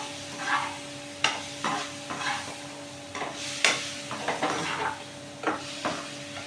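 Maggi masala and tomatoes frying in oil in a pan for a Sindhi gobi aloo sabzi, soft sizzling under repeated spoon stirring and scraping clicks, close and moderate.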